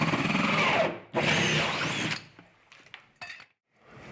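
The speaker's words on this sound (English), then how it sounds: "Bam, 3-inch hole saw." A 3-inch hole saw on a drill running in reverse grinds into a piece of scrap drywall in two loud close bursts, followed by quieter scraping and knocks as it winds down.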